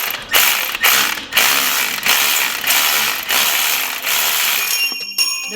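A ratchet on an extension loosens a rusty downpipe bolt on a Subaru, giving rapid, loud metallic clicking in repeated bursts with short pauses between pulls, close up and with no talking.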